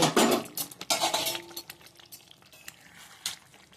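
Tilapia malai curry stirred with a spoonful of ghee in a pot, with a spoon clinking and scraping loudly at first, then quieter taps and a faint bubbling toward the end.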